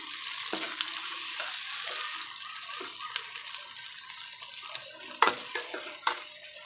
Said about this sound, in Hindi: अब इसको अच्छे तरीके से मिक्स करके 1 मिनट के लिए हम फ्राई कर लेंगे।